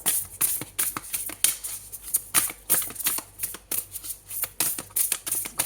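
Tarot cards being shuffled and drawn by hand, a steady run of crisp riffling and slapping bursts, close and fairly quiet, with no talking.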